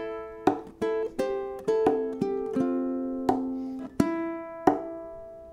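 Ukulele picking a riff as a single-note line with percussive body taps, a steady sequence of plucked notes ringing clearly and close with no voice over them.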